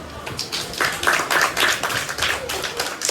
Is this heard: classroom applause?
yes